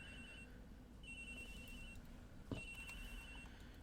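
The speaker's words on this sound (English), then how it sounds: "That's an old phone. Agent Hicks's phone! It's ringing from somewhere, sir!" An old cell phone rings somewhere in Ace Attorney Investigations: Miles Edgeworth, a faint repeating electronic trill in short bursts with gaps, heard alone over a low hiss.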